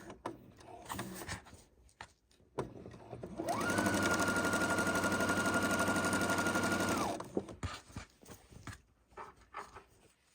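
A Husqvarna Viking sewing machine stitches a quilt seam at about 2.5 stitch length, with a loud, even motorized whir running for several seconds, framed by fabric handling and small clicks before and after.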